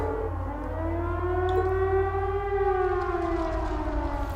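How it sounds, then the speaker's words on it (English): A civil defense siren wails outdoors, its tone rising and slowly sliding up and down in a long sustained sweep over a low background rumble, fairly loud and heard alone without speech. "Unfortunately, sirens."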